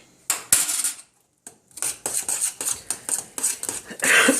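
A spoon scraping and clinking around a pot as butter is stirred into creamy coco wheats, with repeated close metallic strokes in a steady rhythm and no talking.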